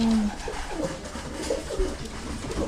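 Pigeons coo inside a loft, with soft repeated low cooing calls heard close by over a faint steady background.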